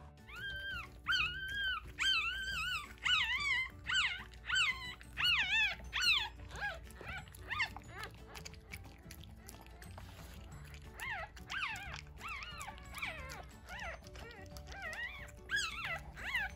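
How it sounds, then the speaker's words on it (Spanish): Newborn Shih Tzu puppies squeal and whimper in a litter, a run of high, thin, wavering cries coming in quick overlapping bursts, close and fairly loud, with brief quieter gaps between volleys. "a pesar de que los cachorros están chillando, se están quejando"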